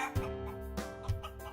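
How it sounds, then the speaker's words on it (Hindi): A hen clucking, several short low clucks in a loose rhythm over a steady tonal background, fairly close and moderately loud. "मुर्गी दौड़ी हुई आई"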